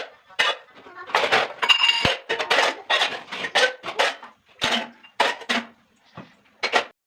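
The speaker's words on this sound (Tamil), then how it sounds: "அதெல்லாம் ஈவினிங்கில் ஒரு டைம் வாஷ் பண்ணி வச்சுட்டேன்னா க்ளீனாக இருக்கும்." Dishes, pots and cutlery being washed in a home kitchen in the evening, with a steady run of close clinks, scrapes and clatters of utensils and pans and no talk over it.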